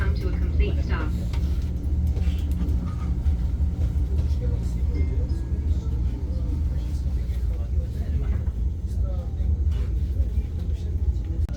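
Haramain express high-speed train running between Makkah and Madinah as it nears its final station, heard from inside the business-class cabin as a steady low rumble that continues throughout without letting up.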